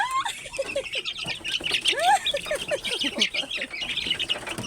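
Native chickens clucking on a farm, several birds close by making overlapping clucks and rising squawks, with some wing flapping and people talking faintly in the background.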